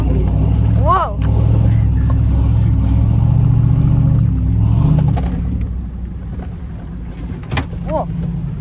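A car being driven fast on a desert road, its steady engine rumble and road noise continuous and close throughout, with people talking over it.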